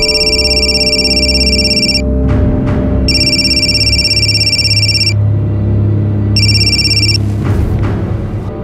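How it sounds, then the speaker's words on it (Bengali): A telephone rings in repeated electronic bursts, two-second trills separated by pauses, loud and close over a low background rumble, with no one speaking. "হ্যাঁ, বিশ্বনাথ দা আমায় ফোন করেছিলেন"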